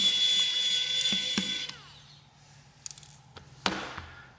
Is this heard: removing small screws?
yes